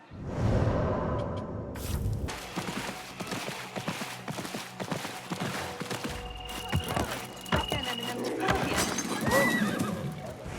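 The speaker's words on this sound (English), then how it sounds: "My horse, my sweet legume." Horse in Assassin's Creed Mirage whinnying loudly up close, with clip-clopping hooves and a few whooshing movements around it, followed by scattered game sounds and faint voices.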